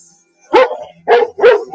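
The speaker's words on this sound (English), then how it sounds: "Okay, stop that barking." A pit bull barks three times in quick succession, close and loud, with short gaps between the barks and no talk over them.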